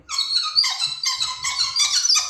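A squeaky caster wheel on an Oasis dehumidifier being rolled, giving a run of high, shrill, repeated squeals in quick uneven bursts, loud and close with no talking.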